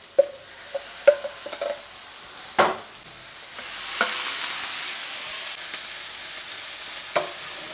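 Liver dropped into a pan with onions and peppers, frying with a soft steady sizzle, punctuated by several sharp clinks and scrapes of stirring, no talk.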